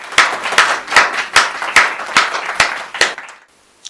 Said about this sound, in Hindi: एक बात बहुत जोरदार तालियों के साथ आशुतोष जी को आमंत्रित करिए।